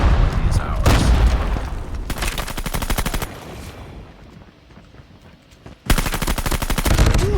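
Rapid automatic gunfire from Call of Duty Mobile, testing the Bruen MK9 rifle and Striker 45 weapons, comes in loud sustained bursts with a quieter stretch of game noise between them, and bursts of gunfire return near the end.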